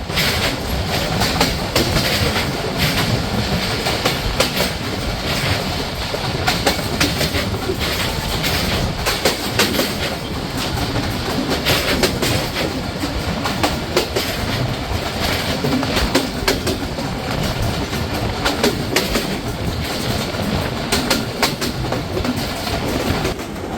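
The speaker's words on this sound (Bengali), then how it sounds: "এরই সাথে আমাদের ট্রেনটি থ্রু পাস করে যাচ্ছে সর্দার রোড রেলওয়ে স্টেশন" A train made up of Iranian vacuum coaches runs through a railway station without stopping, giving a steady, loud rush of rolling wheels and rail noise with clickety-clack joints throughout and no voices.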